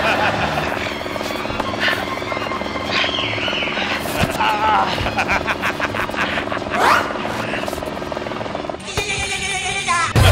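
A helicopter sound effect plays during a stage comedy show, a steady, loud rotor-like drone that fills the whole stretch with voices mixed in over it.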